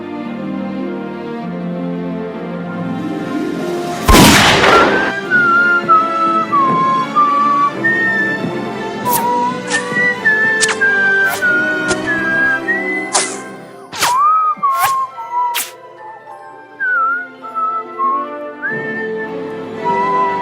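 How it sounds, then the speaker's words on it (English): Sharp whistle-toned bullet shots ring out against snipers in a Sonic fan game, heard as rising and falling whistled pitches with a few sharp cracks over a steady musical background. "Did you use the whistle bullet?"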